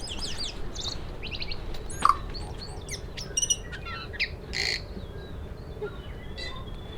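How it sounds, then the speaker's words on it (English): Birds chirp outdoors on Mount Maunganui, with many quick high calls and trills from several directions over a steady bed of outdoor noise, close and fairly loud, with no talk. "There's lots of pretty birds around here."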